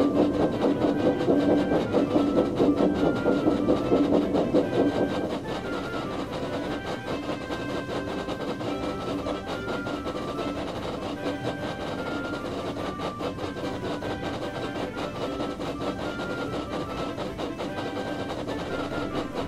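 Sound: heavy train pulled by steam engines

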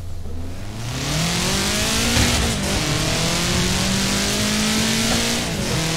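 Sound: Subaru car driving in Forza Horizon 4 video game

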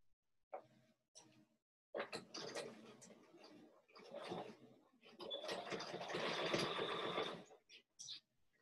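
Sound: sewing machine sewing quilt binding

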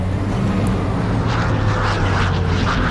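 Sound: aircraft flying in, from video game Gunner, HEAT, PC

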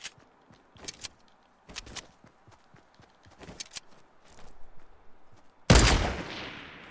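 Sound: gunfire headshot in a shooter video game

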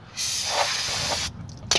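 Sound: aerosol spray being sprayed

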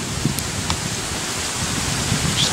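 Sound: rain falling in the video game Pokemon X

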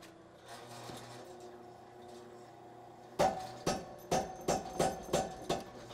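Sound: power hammer forging steel

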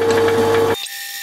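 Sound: drill press drilling metal

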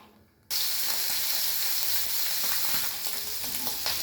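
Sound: tengra fish with salt and turmeric frying in oil

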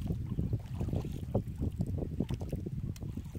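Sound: wind blowing against the microphone while paddling

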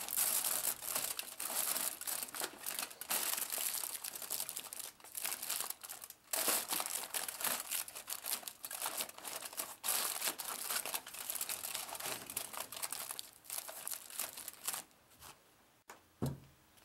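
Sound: aluminium foil being crimped around a hose

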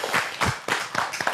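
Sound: studio applause

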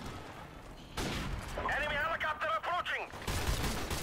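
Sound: gunfire in a gun battle, from a video game

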